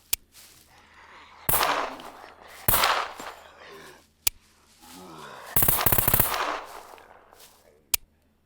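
Gunfire in the survival game SCUM alternates between single shots and full-auto fire: isolated sharp cracks are separated by gaps, and between them come longer bursts of rapid automatic fire.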